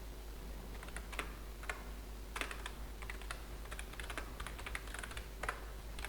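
Computer keyboard typing C++ code for a recursive string-reversal function, with irregular bursts of close, crisp keystrokes separated by short pauses over a steady low hum.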